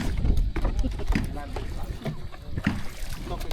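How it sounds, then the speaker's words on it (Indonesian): A small boat heads upriver into the forest, its motor and the wash of the water running steadily and fairly close, with people talking over the noise. "perahu kami pun melaju ke hulu sungai"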